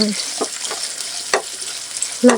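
Garlic, onion and ginger sautéing in a pan for chicken adobo, with a soft steady sizzle and a few scraping stirs of a utensil against the pan, heard close with no talk.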